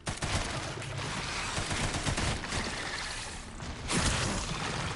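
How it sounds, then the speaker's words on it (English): SMG fire in Resident Evil 9, a dense, loud, continuous rattle of automatic shots with mechanical clatter, briefly easing before another burst. "Do I have enough ammo to kill it with this SMG?"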